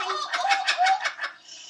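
A human voice imitates a kookaburra's call: a quick run of rising, cackling, laugh-like bursts, loud and close, lasting under two seconds.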